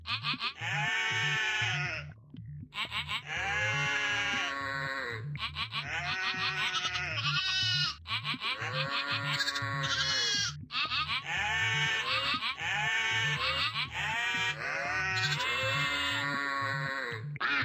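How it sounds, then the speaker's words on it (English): Sheep bleat in a rhythmic, melodic pattern over a steady beat, their quavering cries forming a tune that loops like game music, from the 2007/2008 You Don't Know Jack flash quiz game. "These sheep I borrowed from Old Man Lackner's farm, and that I personally trained, just performed Beethoven's"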